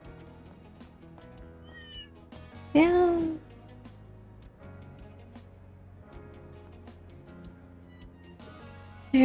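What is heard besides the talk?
cat meowing in the video game Trails through Daybreak II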